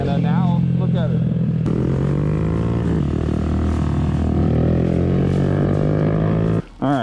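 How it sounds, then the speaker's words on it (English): A Honda Grom small motorcycle riding on a practice course, its engine loud and close with a steady droning tone and shifting revs, while someone talks over it before a brief drop near the end. "But the last time that you saw Mackenzie, she was on a grom, just like this"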